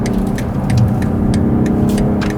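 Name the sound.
BMW 840i Gran Coupé accelerating while overtaking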